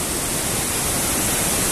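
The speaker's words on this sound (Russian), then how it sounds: "Водопадик." Small waterfall in a Swiss forest, a steady broadband rush of falling water that holds constant and close throughout, with no voices over it.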